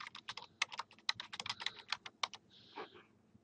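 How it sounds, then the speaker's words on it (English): Fast, light clicking of typing on a computer keyboard, a run of quick irregular keystrokes close by and fairly quiet, with a brief softer rustle near the end and no talk. "So I can type in the title here"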